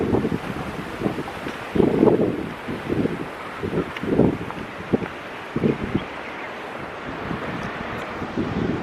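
Wind gusting across the hilltop of Mong Ha Fortress in Macau, buffeting the microphone in low rumbling bursts that rise and fall irregularly, with no voices.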